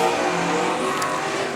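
Sprint race cars roar around a dirt oval at Tri-City Motor Speedway in a brief, loud, sustained burst of engine noise with no voices over it.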